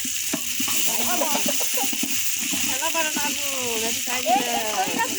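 Food frying with turmeric in a pan at an outdoor picnic, a steady bright sizzle running throughout beneath near continuous conversational talk.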